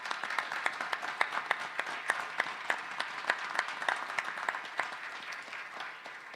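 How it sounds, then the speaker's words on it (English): A small group applauds at a press conference introducing a new San Francisco Giants player, distinct individual claps sounding fairly faint and steady, tapering slightly at the end. "I'm going to give him a round of applause."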